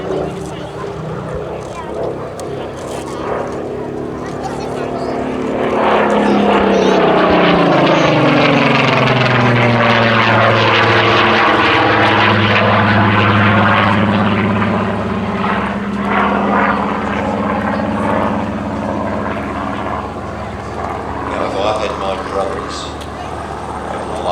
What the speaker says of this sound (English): And as the aircraft comes through, give Chris a huge wave.